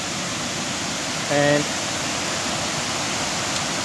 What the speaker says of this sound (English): suddenly in those trees there I'm looking at the head of a massive big waterfall